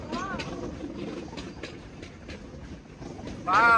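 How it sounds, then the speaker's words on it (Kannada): A train rolls steadily along the tracks near a tunnel at Yadakumari, Sakleshpura, with rhythmic clickety-clack of wheels, close by, ending with a brief squeal of metal as it passes. "ಟ್ರೈನ್ ಬಂದಿದೆ ನಮ್ ಲಕ್ಕು"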